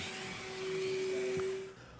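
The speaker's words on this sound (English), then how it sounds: "A great vacuum makes cleaning really easy." A vacuum cleaner runs with a steady high whine and broad rushing hiss, close and continuous, then winds down near the end.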